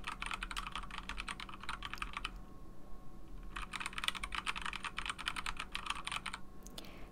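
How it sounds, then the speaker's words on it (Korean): Rapid, fairly soft keystrokes on a quiet mechanical keyboard with silent switches in two bursts, separated by a brief pause. "청축의 타건감을 유지하면서도 소리는 작은 게 특징입니다"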